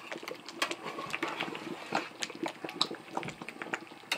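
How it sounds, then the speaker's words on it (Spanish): Red mole sauce for turkey bubbles in a pot, a dense stream of thick pops and gurgles close by, steady and without talking. "Aquí va a quedar hirviendo un buen rato."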